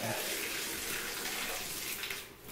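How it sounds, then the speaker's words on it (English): A bathtub tap runs hard with strong water pressure in an apartment bathroom, a steady, broad rushing hiss that stays even throughout before easing slightly at the very end. "you can see and hear that we get very good water pressure"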